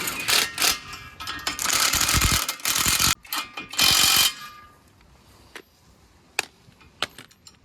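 A ratchet wrench spins a bolt down on an off-road vehicle being converted to four-wheel drive, giving bursts of rapid metallic clicking that are loud up close, then a few sharp isolated clicks and taps as the bolt seats.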